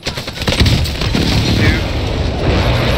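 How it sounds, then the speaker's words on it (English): Heavy booming blasts from a precision airstrike in Warzone on Rebirth Island hit in a loud, sustained roll of explosions and gunfire, close and dense, with players talking over it. "Be advised, friendly precision airstrike inbound."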